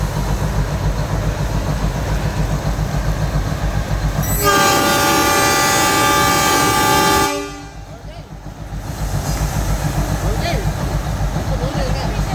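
Matheran hill station toy train running, a constant rumbling rattle from inside the carriage, interrupted by a loud, long, close horn blast lasting about three seconds; a voice talks faintly beneath the noise.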